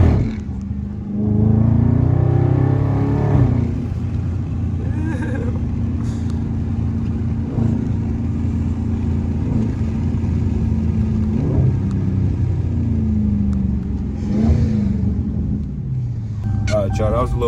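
Dodge SRT engine with an aftermarket air intake revving under load while driving in the rain, a loud steady rumble that swells near the start and again late, with road and water noise and someone talking over it.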